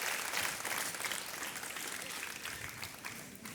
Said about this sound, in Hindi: तालियों के साथ अभिनंदन करते हैं आपका